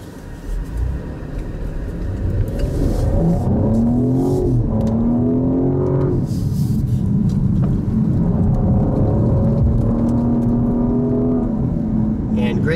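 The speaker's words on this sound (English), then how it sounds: "great exhaust note from those quad exhausts" A 2019 Cadillac CT6 Platinum AWD's quad exhausts roar as it accelerates hard in sport mode, the engine note climbing through gears, loud and sustained.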